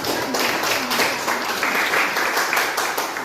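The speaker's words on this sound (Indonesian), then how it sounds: "Kita memberikan tepuk tangan untuk teman-teman." Students in a classroom give a round of applause, a close, busy and fairly loud patter of many hands that holds steady throughout.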